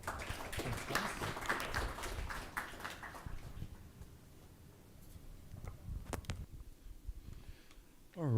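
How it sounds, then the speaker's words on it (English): Attendees at an AWS user group meetup applaud a presenter, a modest, somewhat distant patter of clapping that fades after a few seconds, followed by a few scattered claps and room noise. "Everyone give Gokul a round of applause"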